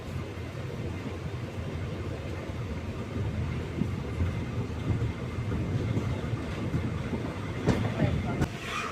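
The Yesvantpur-Salem express runs along the track at night, a steady, moderately distant rumble of wheels and carriages with faint rhythmic clatter throughout.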